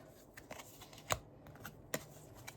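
Playing cards being shuffled by hand: faint, soft riffling textures with two sharper snapping clicks about a second apart, quiet and close, with no talk.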